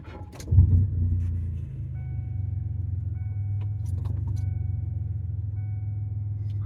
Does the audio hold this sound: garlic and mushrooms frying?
no